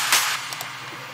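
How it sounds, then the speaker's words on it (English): Progressive house clap samples: a sharp, bright clap burst at the start followed by a couple of softer snappy hits, close and dry with no talk. "I have my almost signature claps at the start of the track, which sound like this."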